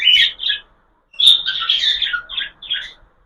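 Two recovering pet budgerigars chirp in a quick series of bright, twittering calls, close by, with a short pause between bursts and no talking.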